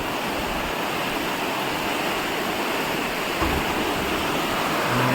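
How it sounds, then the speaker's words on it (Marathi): A river rushes steadily past an old bridge in a Konkan village during the rains, a dense, loud and continuous wash of water with no voices over it. "नदी वाहते"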